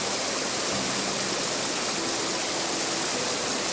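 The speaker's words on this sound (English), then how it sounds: "I'm going to swim in the border river of Bhutan and India." Steady broadband rush of a river flowing along the Bhutan–India border, continuous and fairly loud with no pauses and no voices.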